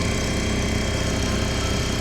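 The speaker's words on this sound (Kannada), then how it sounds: "ನಮ್ಮ ಮಾವರು ಕೂಡ ಬೋಟ್ ಓಡಿಸ್ತಾ ಇದ್ದಾರೆ." A motor boat engine idles and runs at a steady, even drone near Honnavar, with a constant low rumble and slight vibration and no voices.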